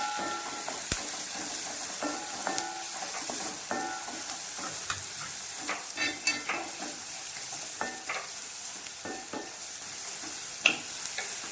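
Onions with curry leaves fry in a pan for a green pea curry, giving a soft steady sizzle broken by repeated scraping stirs of a spoon against the pan. No voices are heard.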